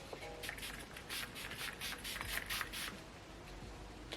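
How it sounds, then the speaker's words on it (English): Several short, soft hissing bursts of makeup setting spray repeat in a quick uneven rhythm, close by and fairly quiet, with no talking. "we're just gonna go in with some setting spray"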